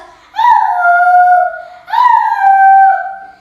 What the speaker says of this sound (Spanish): Un día, al regresar de la escuela, Sapo escuchó unos gemidos.